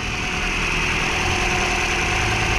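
A Toyota Altis engine idles high at around 3,000 RPM, a steady, loud, even drone with faint vibration and no change in pitch, heard up close with no voices.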